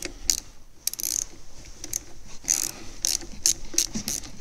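Quick ratcheting clicks in short bursts as a 10 mm wrench loosens the negative battery terminal on a Ford Fiesta, close and crisp with brief pauses between turns.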